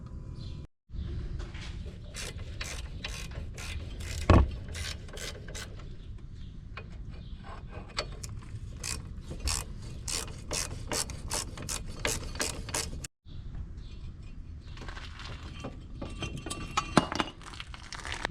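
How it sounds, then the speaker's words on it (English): A hand ratchet clicks in quick bursts while removing the two 15mm caliper mount bolts on a 2006 Chevy Cobalt SS during a wheel bearing job, with metallic clinks and short pauses between runs of turning. "remove your caliper mount, which is going to be two 15mm bolts"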